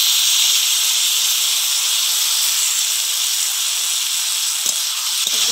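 Cumin paste hits a pan of fish curry with a steady, loud sizzling hiss that runs unbroken, with a couple of faint clinks near the end.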